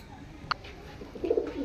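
Pet pigeons kept at home give a soft, low coo over a quiet background, with a faint short chirp just before it.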